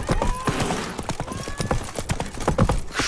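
A horse gallops in The Witcher 3 video game, with rapid, loud hoofbeats in an uneven driving rhythm, close up, over game ambience and a faint voice.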